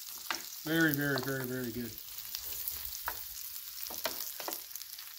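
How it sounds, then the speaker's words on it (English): Pork butt steaks sear on a Blackstone griddle with a steady, close sizzle that runs throughout, while a voice speaks briefly over it near the start. "when you put it on the grill, it'll just cook it right into a crust, like that'll sear it into a crust"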